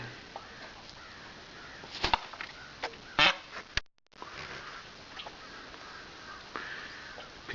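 Peacocks, white hens and guinea fowl feeding on a farm in the morning: a few loud honking and cackling bird calls in short bursts over quiet outdoor background, with light rustling between calls.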